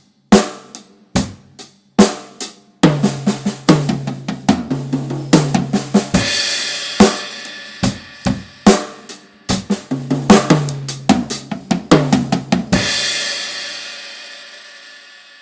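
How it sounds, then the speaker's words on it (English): A drum set plays a basic eighth-note groove, then a sixteenth-note paradiddle fill, with sharp snare and kick hits and cymbal crashes ringing out. It is close, loud and rhythmic, with no talking. "let's set up a 1-bar basic 8th note pattern and then use the paradiddle as a 16th note fill"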